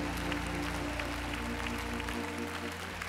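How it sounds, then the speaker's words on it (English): A church congregation claps together in praise during a Sunday morning service, a dense, steady wash of hands over sustained organ or keyboard chords, loud and continuous throughout. "give the Lord a hand clap of praise"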